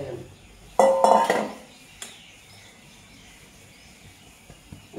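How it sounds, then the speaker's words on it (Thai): Red ant eggs are washed in a metal basin, giving one loud clattering splash and rattle of metal, followed by a single sharp clink and then quiet. "อันนี้คือการล้างนะคะ ใส่กระมังเดิม"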